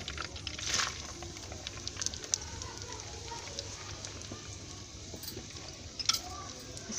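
Onion dropped into hot oil for a milky masoor dish, a soft continuous crackling sizzle with scattered clicks and a couple of louder stirring knocks over a low background hum.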